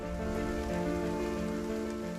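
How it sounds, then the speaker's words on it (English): Heavy rain pours during a hike on a Lake District fell, a loud unbroken wash of drops filling the whole moment. "the clouds dropped and it was now pouring with rain"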